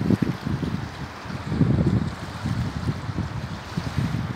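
Waves lap against the embankment of the Don river, low rolling wash mixed with wind buffeting the microphone, steady and close throughout with no voices.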